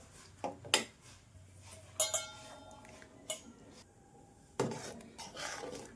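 Sabudana mixture stirred in a pan with a metal spoon, intermittent scraping clinks and knocks against the pan, quiet between sharp strikes, no talking.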